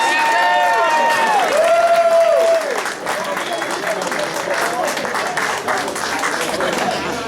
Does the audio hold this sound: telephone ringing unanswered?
no